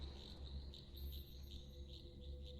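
Night insects chirp faintly and continuously in a steady pulsing rhythm, like a chorus of crickets or cicadas with no other sounds.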